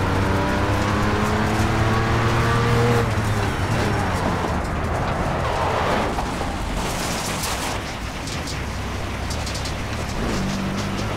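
Race car engine in the video game Project CARS drones and hums steadily with shifting tones, while birds coo in the background.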